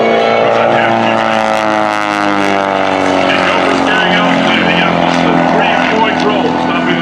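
A two-seat aerobatic airplane performs at an airshow, its propeller engine roaring loud and close. The droning pitch slides downward as the plane sweeps past and keeps a strong, steady growl throughout.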